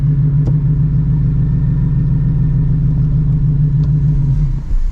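A 900 hp Shelby GT350 with a new twin disc clutch stalling, its engine holding a loud, steady low rumble close by that shudders and drops away at the end as it dies, with faint clicks over it.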